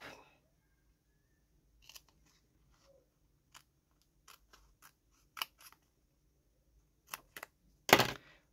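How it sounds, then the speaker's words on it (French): Scissors snip through material in a quiet room, giving sparse, sharp individual cuts spaced irregularly across the stretch, with a louder cluster of snips near the end. "Faut que je le découpe."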